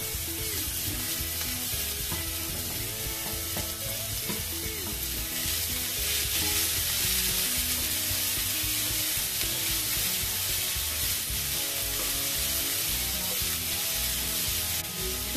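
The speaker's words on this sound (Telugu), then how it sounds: "చికెన్ కూడా ఫ్రై అవ్వాలి ఆనియన్స్లో." Chicken and onions fry in a pan with a continuous loud sizzle, stirred now and then with scraping, and no talking.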